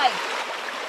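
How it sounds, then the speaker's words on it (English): Running water of a stream on a New Zealand forest hiking trail, a steady broadband rush close by, heard alone over a short moment. "Nice running water."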